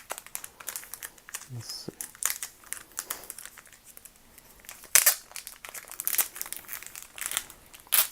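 Plastic wrapping crinkling and tearing as a pack of Power Rangers comics is opened by hand, irregular crackly bursts close by, with a few spoken words.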